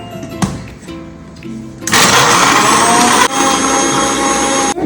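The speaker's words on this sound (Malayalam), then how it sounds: "ഇനി ഇത് നന്നായിട്ട് മിക്സിയിൽ അടിക്കാം" A few clinks and knocks, then a mixer grinder blending strawberry, dragon fruit and milk roars to life and runs loud and steady, briefly dipping in pitch before continuing at full speed.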